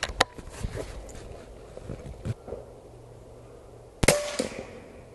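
A single sharp crack from an Umarex Origin .25 air rifle rings out near the end, following quieter handling clicks and faint background noise.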